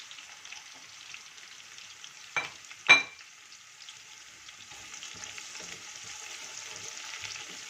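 Dry whole spices frying in oil for chana pulao crackle with a soft, steady sizzle, broken by two sharp pops of stirring, then the frying gradually grows a little louder.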